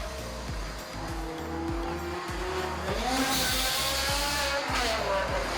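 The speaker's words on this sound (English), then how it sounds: "and you have to listen to this V10." A tuned BMW M6 V10 with a G-Power supercharger and Eisenmann exhaust, making 750 horsepower, revs loud and close in a series of sharp throttle blips, the engine note rising and swelling louder toward the end.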